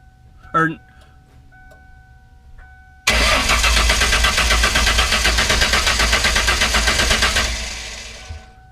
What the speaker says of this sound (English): now she's going to try to crank the car and see if any fuel comes out